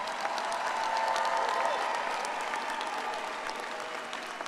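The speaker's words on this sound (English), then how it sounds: "give these graduates and their faculty and staff a round of applause" A large commencement crowd of families and friends in the Crown Coliseum gives the graduates sustained applause, a dense, even roar of clapping that fills the arena and slowly tapers.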